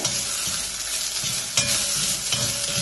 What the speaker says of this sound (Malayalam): ഞാൻ കഴുകിയ വറ്റൽമുളക് അത് വെച്ചിട്ടൊന്ന് വഴറ്റുന്നു